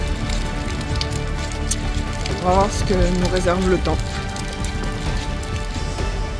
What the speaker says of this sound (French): il pleut, il mouille à Saint-Nectaire. Allez, pas d'orage, mais une bonne pluie là.